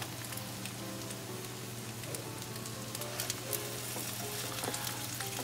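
Ham French toast roll ups fry in a pan with a steady, close crackling sizzle. Faint pops and spatters sit over a constant low hum, with no talking.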